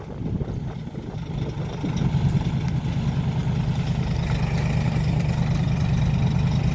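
Range Rover 4.2 engine idling under strain while towing a heavy truck, a steady low rumble that grows slightly louder after the first two seconds and holds close and continuous.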